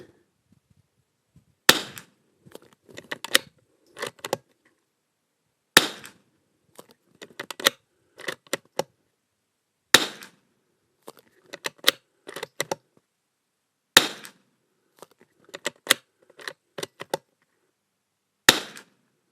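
Christensen Arms Ranger .22LR rifle fitted with a barrel tuner firing at a range, five sharp cracks spaced a few seconds apart, each followed by faint clicks of bolt handling in otherwise quiet surroundings.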